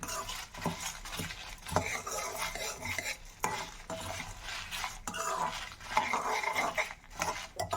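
Fifteen dry red chillies roasting in a pan rustle and scrape under a utensil, with repeated stirring strokes and faint sizzling at close range.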